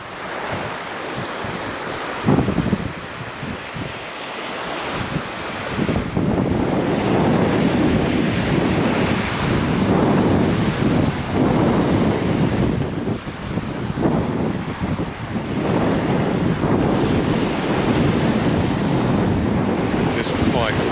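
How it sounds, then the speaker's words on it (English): Steady wash of small waves on a beach, heavily buffeted by gusty wind rumbling across the microphone throughout. "It's a little bit windy, little waves rippling along."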